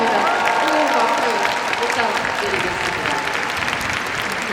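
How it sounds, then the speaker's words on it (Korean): Steady, dense applause from a festival audience at an open talk with film cast, continuing loud and unbroken throughout with a crowd murmur under it. "박수"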